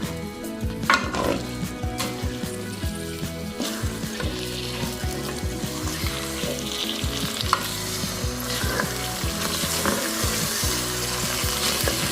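A poured spice mixture is stirred into chicken curry in a hot pan, a constant frying sizzle layered with repeated scraping and clattering of a spoon against the pot.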